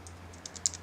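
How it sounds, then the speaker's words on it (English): Faint, sparse keystrokes on a Logitech computer keyboard, a handful of light clicks spread across under a second, with a steady low electrical hum underneath and no voices. "here's my Logitech keyboard."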